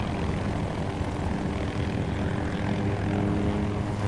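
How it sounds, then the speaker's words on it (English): A propeller airplane engine drones steadily in the Battlefield 2042 video game, a loud, continuous hum holding at an even level throughout with no talk over it. "Are you chasing that other plane?"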